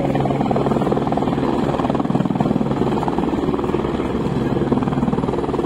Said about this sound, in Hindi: वो देखिए एक हेलीकॉप्टर गया, दूसरा हेलीकॉप्टर वैसे आ गया, ये लैंड होगा